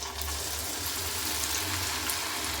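Potato french fries drop into hot oil, setting off a steady, loud, dense frying hiss that holds unbroken throughout, close and with no voices.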